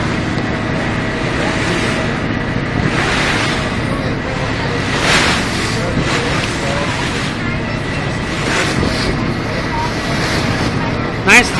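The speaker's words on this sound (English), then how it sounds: "There's the water bus going backwards towards Urban Cave" A Venice water bus moves along the water near St Mark's Square, its engine a steady low drone mixed with wind buffeting the microphone and lapping water, while people talk nearby.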